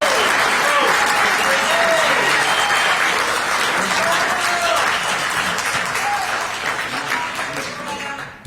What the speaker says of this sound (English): give Cam Howard a big round of applause